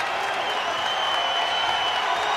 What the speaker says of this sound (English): Crowd comes alive.